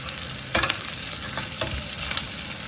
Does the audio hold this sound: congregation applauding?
no